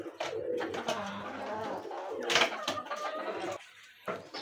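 Pigeons cooing on a rooftop after feeding, several soft throaty coos and wing flutters close by, with a person speaking at the same time.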